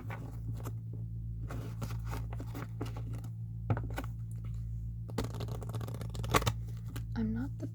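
Thick tarot cards being shuffled by hand in a quiet room, giving soft, close riffling and patting bursts with brief pauses over a low steady hum.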